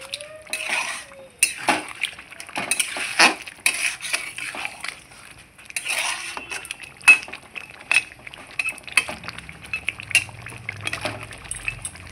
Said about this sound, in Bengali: জলটা দিয়ে আমি আবারও খুব সুন্দর করে মিক্স করে নিচ্ছি